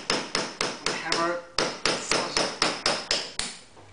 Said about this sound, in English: All you got to basically do is you're going to hammer it in.